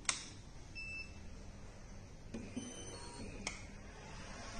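A high-end desktop PEEK 3D printer powering on gives a sharp electronic beep at the start, then two fainter clicks or beeps later over a quiet hum, with no voices.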